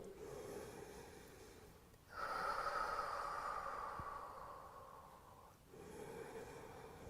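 Slow, steady breaths drawn in and pushed out through the nose and mouth during a static thigh-and-glute exercise hold, close and soft, with a long airy exhale in the middle and no talking.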